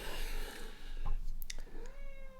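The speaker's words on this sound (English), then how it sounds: "That cat, she has a very, very plaintive mew." A cat gives a drawn-out, plaintive meow that rises and falls, fairly close and moderately loud against a steady background hum, with no talking.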